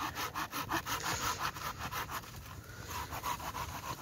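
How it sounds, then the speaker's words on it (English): Steady back-and-forth strokes of a handsaw cutting through firewood, rhythmic and close, continuing throughout without voices, at a snowy winter campsite in Scotland. "doing a bit of sawing"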